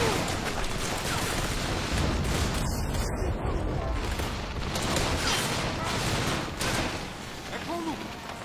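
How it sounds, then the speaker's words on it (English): Dense, continuous gunfire crackles and booms throughout, a chaotic barrage of shots with game-like mixing, loud and sustained. "Where is all this gunfire happening? Sounds like it's right next to me, but it's not."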